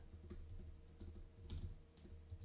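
Soft keyboard typing on a computer as a text prompt is entered, faint rapid key clicks in small clusters over a low steady room hum, with no speech.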